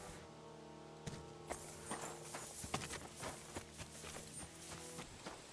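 Steady clip-clop of horse hooves at a brisk pace over a constant background hum, with no voices, in the video game Kingdom Come: Deliverance II.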